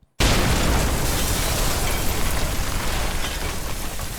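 A bomb explosion sound effect hits suddenly after a brief silence, and a dense, loud, roaring rumble then holds and slowly fades over a few seconds.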